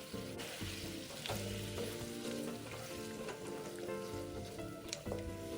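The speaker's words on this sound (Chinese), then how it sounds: "拌一拌，盖好" Pumpkin and pork belly braising with canned braised peanuts are stirred in a pot, giving a steady close sizzle and bubbling with soft scraping and clinks throughout, no voices.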